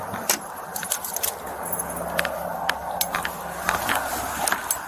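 Car keys being handed over during a traffic stop jangle and clink repeatedly close by, with a low engine hum running steadily underneath.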